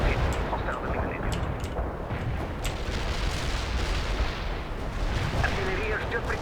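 Artillery strike in the real-time strategy game World in Conflict, with a dense barrage of booming explosions and rumbling impacts rolling on continuously for several seconds.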